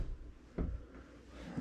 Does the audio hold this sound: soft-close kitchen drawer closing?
yes